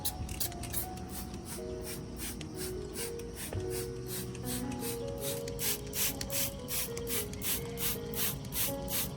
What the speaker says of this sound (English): I continued spraying the nutrient mixture evenly on the leaves